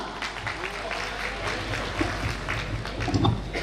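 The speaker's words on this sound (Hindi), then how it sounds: "कम ऑन, जोरदार तालियां।" An audience at a Diwali celebration claps loudly and steadily, with cheers rising near the end and a voice speaking over the applause.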